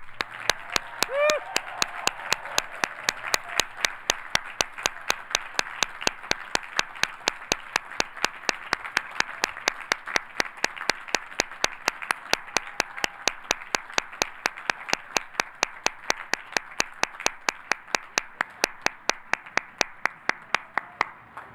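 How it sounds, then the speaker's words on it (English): Graduating students clap together for their guests at a large commencement ceremony, a dense, steady, even round of applause that holds at the same level for about twenty seconds. "please join me in honoring them by giving them a warm applause"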